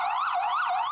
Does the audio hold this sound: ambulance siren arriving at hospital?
yes